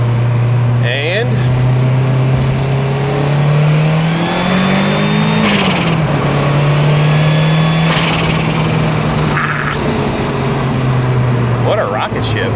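A 1993 Ford Escort RS Cosworth engine revs hard and steadily through the gears, pitch climbing and dipping as it drops back into second, loud and close throughout with a person talking over it.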